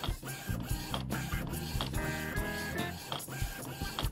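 A printer works through a print job with rhythmic mechanical clunks, whirring feed motors and short high-pitched whines, loud and close with no voices over it.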